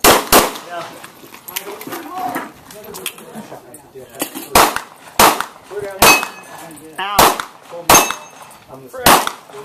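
Sharp, loud gunshots crack out one at a time, about eight of them at irregular intervals. People talk between the shots.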